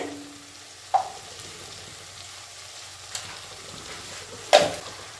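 Spices, including Kashmiri red chilli powder, are stirred in a frying pan for a fish-head cabbage dish, with a soft sizzle and three distinct spoon clinks against the pan, nearby and alone.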